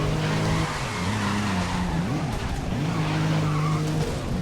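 Race car in the racing game Grid 2019 driving hard, with a steady engine drone shifting pitch through gear changes and tires squealing and skidding through turns, loud and continuous.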